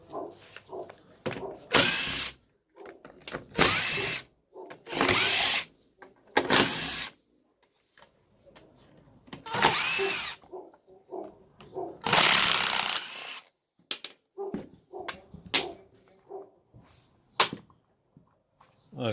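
A large angle grinder with a sticking trigger runs in repeated loud, high-pitched bursts of a few seconds each, with short quiet gaps and handling clatter between them, heard close up with no talking.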